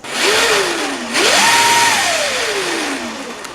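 An electric motor whines on a $900 RC truck running in low gear on a 6S battery, pitch sweeping up and down as it spins, loud and close with no talking.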